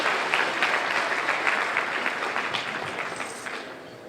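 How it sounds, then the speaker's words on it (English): Gala audience at a Valentine's Day celebration giving a round of applause after a band and dance group, steady dense clapping from a moderately sized crowd that gradually tapers off. "let's give them another round of big applause."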